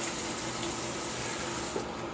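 Shaving brush rinsed under a running bathroom tap, a steady, even rush of water hissing continuously at moderate level with no pauses.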